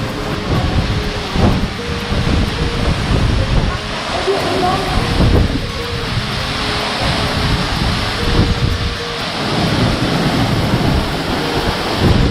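Water cascading down the tiers of Kaeng Yui waterfall near Vang Vieng, Laos, in the rainy season, heard as a steady, dense roar of rushing water that fills the whole clip without a break.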